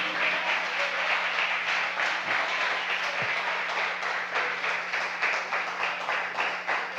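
Church congregation at a Sunday service applauding to glorify the Lord, a dense, loud, continuous wash of clapping that fills the room evenly from start to finish.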